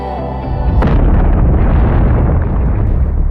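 Massive explosion at the Eiffel Tower: a sudden loud blast bursts in under a second, then a dense, sustained rumble and roar of debris and fire that stays loud to the end.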